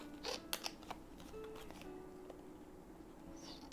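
Scissors trimming a handmade scrapbook paper tag: a few quiet, crisp snips close together near the start, then faint paper handling in a hushed room.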